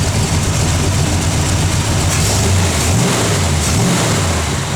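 A 1965 Chevrolet Corvette engine runs close by, a steady low rumble with a couple of brief throttle rises near the end.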